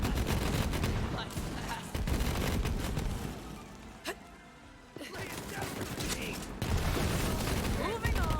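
Rapid Torgue weapon gunfire and explosive blasts from the video game Borderlands 3, dense and loud almost throughout, with a brief lull in the middle and a voice talking over the barrage.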